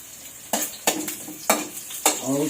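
Chopped onion frying in hot cooking oil in a pan, stirred with four sharp scraping strokes over a steady close sizzle, no talking.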